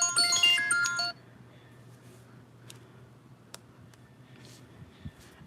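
Phone ringtone from an incoming call: a bright electronic melody of quick descending notes, loud and close, lasting about a second before cutting off into quiet room noise with a few faint clicks.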